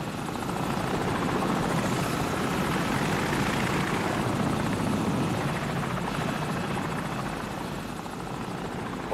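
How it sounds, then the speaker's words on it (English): Enemy helicopter in Call of Duty 4: Modern Warfare, a steady loud rotor drone passing overhead, holding a dense continuous roar for the whole stretch with no talk over it. "Enemy helicopter! Get down!"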